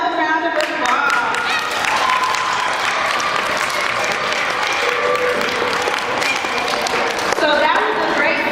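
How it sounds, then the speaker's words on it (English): Elementary school assembly audience applauding after an anti-bullying skit, a broad wash of clapping from a large crowd of children, sustained throughout with voices mixed in and musical tones over it. "let's give them another round of applause"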